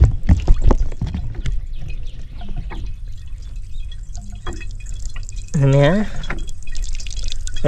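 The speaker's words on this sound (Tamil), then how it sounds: "பாருங்க. உள்ளே தண்ணி வந்துக்கிட்டு இருக்கு." Water trickles and drips steadily into a container from a free energy water pump, with a brief louder gurgling rush partway through and a voice speaking over it.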